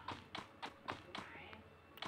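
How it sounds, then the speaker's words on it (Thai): A character's footsteps in the shooter game Free Fire tap out a steady, quick rhythm of about eight crisp steps at moderate loudness, with a faint background hum. "ออ๋อเสียงเท้าเดินกูเอง"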